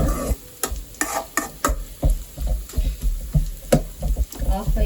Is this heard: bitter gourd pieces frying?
yes